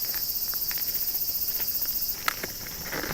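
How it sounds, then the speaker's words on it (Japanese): Large brown cicada (aburazemi) calling in a Japanese summer, a steady high buzzing drone throughout, with faint rustles and a brief knock near the end, no voices. "アブラゼミの声が聞こえてきます。"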